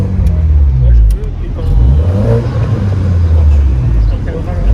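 The exhaust of a BMW Z4 G29 30i in sport mode with the flaps open, heard from inside the car as a loud, low engine drone that swells under throttle. A person talks over it throughout.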